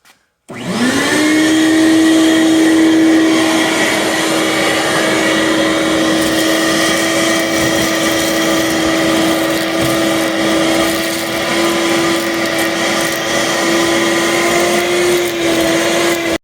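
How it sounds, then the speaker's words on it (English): A vacuum cleaner runs steadily through the dirty interior of a Mazda RX8, its loud, continuous whine holding one even pitch from start to finish with no talking. "I'm gonna go ahead and use a vacuum and try to get rid of some of this dirt."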